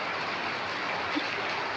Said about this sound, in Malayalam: നല്ല മഴയും ഇല്ലേ